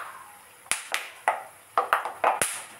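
Peanuts frying in oil with garlic give off sharp, irregular pops and crackles, about seven distinct snaps over a few seconds, close and crisp above a soft sizzle.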